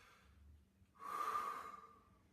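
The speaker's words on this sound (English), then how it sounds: "So you got a chest breath." A saxophone player takes a single shallow chest breath, a soft airy inhale close by, rising after a quiet second and fading over about a second and a half.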